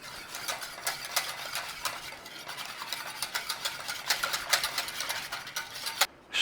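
Milk being whisked into custard in a bowl for an old-school stem ginger pudding, a quick steady run of light clicking and scraping strokes at close range, fairly even throughout with a sharper knock near the end.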